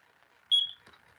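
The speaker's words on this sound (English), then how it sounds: "So it's this smoke alarm's on to give me a headache." A single short, shrill beep from an SMI100 smoke alarm rises out of a quiet room, holds for about a quarter second and trails off, with faint background hum around it.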